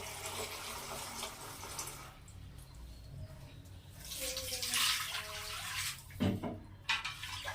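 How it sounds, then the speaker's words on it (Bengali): Water pours from a tap into a cooking pot for a mutton curry. The splashing and gurgling is close and uneven, with a few clanks of the pot. "এবার এটাতে পরিমাপ মতো জল দিয়ে দেব।"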